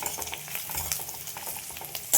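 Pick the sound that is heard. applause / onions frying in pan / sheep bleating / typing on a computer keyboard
onions frying in pan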